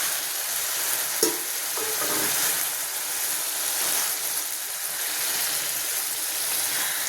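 Meat frying in a pan with sautéed tomatoes, a continuous hissing sizzle with occasional clinks and scrapes of a spoon stirring, close and steady, with no talking.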